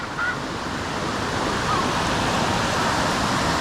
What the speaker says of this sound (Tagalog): narinig ko na yung malakas na agos ng tubig